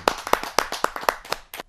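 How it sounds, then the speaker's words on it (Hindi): An audience at a Hindi poetry gathering claps loudly, a dense run of sharp, close hand claps repeating in a quick irregular rhythm throughout. "जोरदार ताली के साथ"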